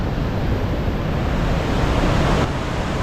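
A smaller waterfall at Yellowstone roars as a loud, steady rush of falling water, close by and unbroken, with no voices.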